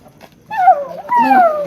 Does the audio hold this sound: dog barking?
yes